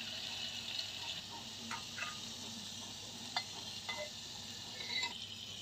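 Drumstick pieces and turmeric drop into hot oil with secret masala for shevgyachi sheng, sizzling softly and steadily with occasional clinks of a spoon against the pan.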